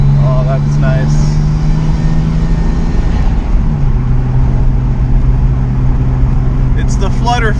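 Engine of an R32 Skyline GTS-T turbo car on a highway on-ramp, a loud steady drone whose pitch drops partway through as the throttle lifts, with a brief fluttery chatter; people talk over it inside the car.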